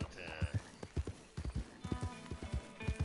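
Horse hooves gallop in the Red Dead Redemption 2 video game with a steady, rhythmic clip-clop of close, distinct hoof strikes that continue throughout.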